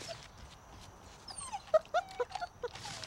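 Captive-bred wolf pups whimper and yip at feeding time, a run of thin, high, wavering whines and short cries in quick succession, fairly close but soft, with a light background hiss.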